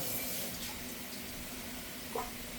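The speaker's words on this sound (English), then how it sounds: "Just give it a quick rinse." Running water from a kitchen tap rinses a small plate, a steady close hiss of flowing water with a brief clink near the end and no voices.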